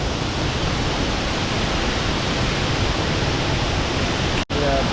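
Soormane waterfall roars as a loud, dense and unbroken rush of falling water close by, steady from start to finish with one brief dropout near the end.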